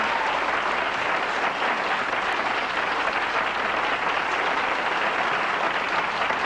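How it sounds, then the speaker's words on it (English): Dense, steady applause from a New York television studio audience for a singer in 1981, a continuous wash of many hands clapping at even loudness throughout. "very nice to hear that beautiful New York applause"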